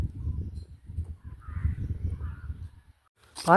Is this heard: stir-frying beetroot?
no